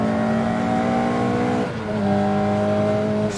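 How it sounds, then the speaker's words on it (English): A loud, close MST Escort MKI tarmac rally car with a short-geared engine revving hard, a raw harmonic roar that dips briefly on a gear change and then climbs again. "Short geared, absolutely enthralling, and with just an epic engine up front, but so much noise and fury and vibration."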